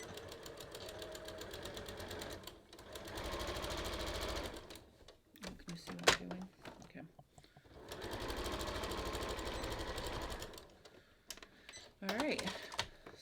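A sewing machine stitches a kangaroo pocket onto a top in three bursts of rapid mechanical chattering, the first two long and the last short. Someone talks quietly in the pauses between the runs.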